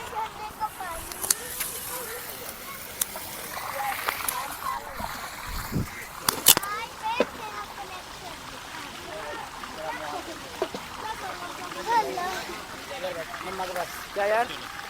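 Water splashes from a pipe beside a pond at Raj Ghat in Delhi as someone washes their face and hands, with intermittent splashes and running water under frequent nearby talk.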